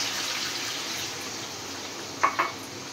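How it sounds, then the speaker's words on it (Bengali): Broth poured into a chicken curry in the pot, a soft continuous splashing stream with two small clinks near the end, no voices. "এখন ঝোল দিয়ে দিব।"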